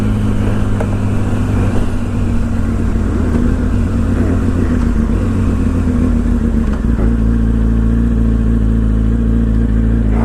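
A Yamaha R1 AMA Pro race motorcycle engine revs loud and close, a steady droning roar with shifting pitch that holds throughout and eases down slightly after the middle.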